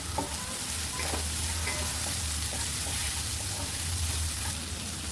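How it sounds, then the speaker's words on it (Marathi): Sliced onion and green chilies fry in a pan for a beetroot vegetable dish, giving a loud, dense, continuous sizzle with stirring scrapes, close up and unbroken. "कांदा टाकते चार मिरच्या घेतलेल्या त्या उभ्या चिरून घेतल्या त्या टाकूया"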